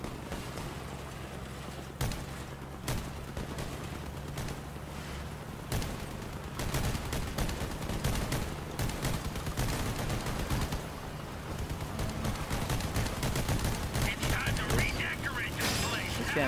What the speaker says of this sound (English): be sure to tap fire so that your guns don't overheat as fast